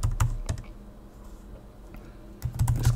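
Someone types a terminal command on a computer keyboard: quick clusters of close key clicks at the start and end, with a softer, quieter gap between.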